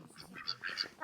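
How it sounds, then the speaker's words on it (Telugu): Ducks at an eco farm in Izborsk village, Russia, give several short nasal quacks in quick succession. The calls are fairly faint and come from close range, with no talk over them. "బాతు ఉంది ఇక్కడ. బాతులు చూసారా, బాతులు బాగున్నాయి కదా."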